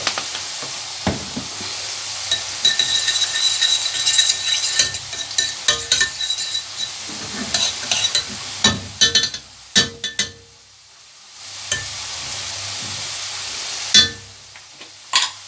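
Ghee and a little oil frying in a pan while being stirred, a close steady sizzle broken by repeated clinks and scrapes of a spoon against the pot, with a brief quieter pause before the sizzling resumes.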